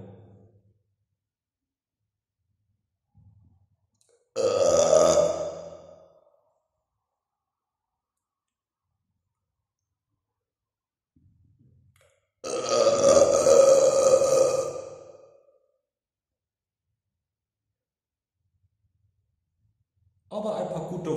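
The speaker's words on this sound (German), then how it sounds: "Aber ein paar gute Rülpser kommen da anscheinend auch mit raus." A person burps after drinking bitter wine, with two long, loud, croaky belches close up and separated by silence, plus the start of a third.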